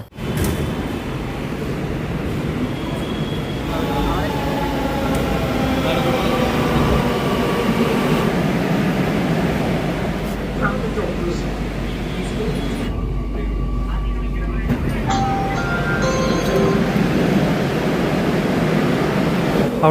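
A Kochi Metro train on the move fills the ride with a loud, continuous rumble and rolling rail noise. Faint tonal whines shift along the way, and a voice talks over the sustained clatter.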